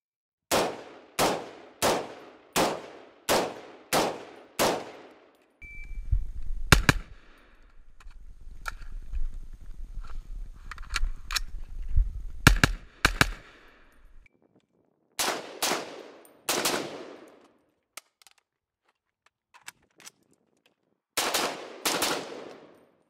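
Rifle fire from a Midwest Industries MI-10F AR-10, loud close shots in a fast string of about seven, then scattered shots and metallic clanks over a low rumble, followed by further bursts of two or three shots.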